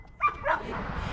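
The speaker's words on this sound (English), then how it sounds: "We got a bunch of dogs up here." A dog gives a quick yip followed by a short whining bark, close by and brief, over a soft outdoor background hiss.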